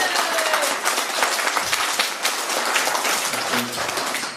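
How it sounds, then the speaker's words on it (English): Wedding guests at the speeches applauding, a lively, close burst of many hands clapping that holds steady for several seconds, with a few brief voices mixed in. "everybody, a big round of applause"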